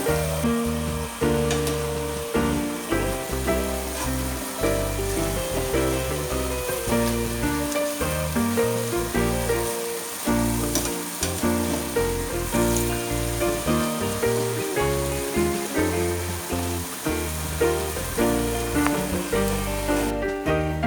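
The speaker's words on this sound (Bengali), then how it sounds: "হয়ে গেছে, এগুলো লাল লাল করে ভাজা, আর একটু লাল হবে।" Urad dal fritters sizzle and crackle in hot oil, a dense, continuous frying hiss with rapid pops and bubbling that stays steady and close throughout, with no talking.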